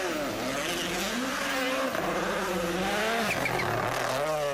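A Rally 1 car runs on ice during the Rally Sweden shakedown, its engine note rising and falling steadily and loud throughout, with a continuous drone and shifting harmonics as it drives past.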